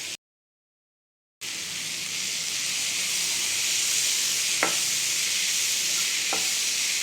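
Ginger and garlic sizzle in hot oil with vegetables for fried rice, a steady close hiss after a short silence, with a couple of sharp clinks of a utensil against the pan.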